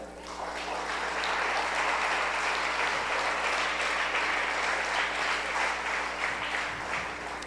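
A church congregation claps together in praise, steady dense applause that swells quickly and holds evenly for several seconds before easing slightly, with a low hum underneath.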